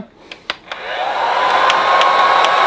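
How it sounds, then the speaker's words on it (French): A few clicks, then a heat gun whirs up into a steady, loud rushing blow of hot air that holds to the end, heating a moped exhaust pipe. "Vous prenez un décapeur thermique"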